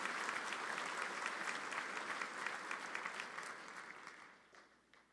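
Commencement audience for the class of 2022 gives a round of applause, full dense clapping that holds, then thins and fades out over the last second.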